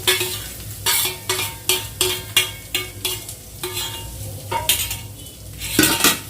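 Fried prawns are stirred into sizzling masala in a pan for prawn biryani. Rhythmic metal spoon scrapes land roughly every half second over a steady sizzle, close and clear, with no talking.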